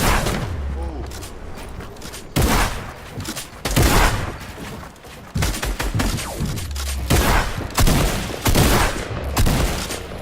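Rapid video game gunfire in a fast-paced shooter match, bursts of shots and booming impacts repeating across the clip, loud and close, with a player's voice talking over the action.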